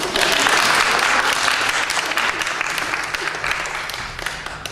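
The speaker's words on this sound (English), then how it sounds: "Round of applause." Loud, dense applause from a crowd at a memorial, steady clapping that tapers off slightly toward the end.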